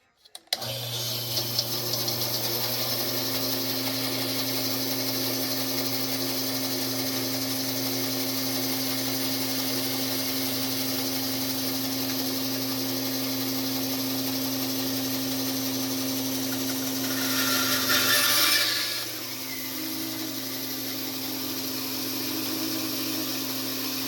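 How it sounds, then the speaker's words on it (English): A bandsaw runs steadily with a constant motor hum, close and fairly loud, and near the end it briefly rises as it cuts through a carbon fiber pen blank before settling back to idle. "We're going to cut this on the bandsaw."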